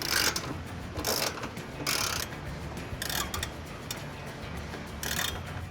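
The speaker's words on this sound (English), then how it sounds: "We're going to use a 14mm socket to remove 2 bolts." A hand ratchet fitted with a 14mm socket removes the tow hook bolts on a 2018-2021 Mitsubishi Eclipse Cross, giving repeated bursts of rapid clicking separated by short pauses, close up and clear with no speech.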